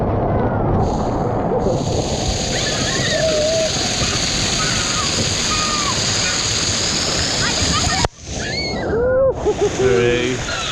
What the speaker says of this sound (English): Oh, you gotta come through the shower.